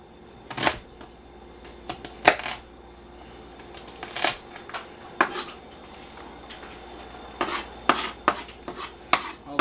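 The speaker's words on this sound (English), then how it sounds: "just dicing up some onions." A knife dices onions on a cutting board during home barbecue cooking, giving a string of sharp, irregular chopping taps and clicks, close and fairly crisp, with short pauses between bursts and no talk.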